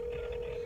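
A telephone tone rings steadily and fairly loud on the line while a call is being placed, holding one continuous pitch with no voices over it.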